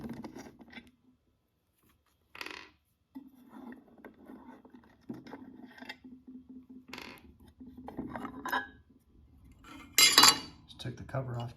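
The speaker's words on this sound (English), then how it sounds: "Just taking my Phillips screwdriver and loosening up these screws here." A Phillips screwdriver works loose the mounting screws on a CINOTON dusk-to-dawn LED barn light, a series of close, brief metallic clinks and scrapes separated by quiet gaps, ending in a sharper clatter.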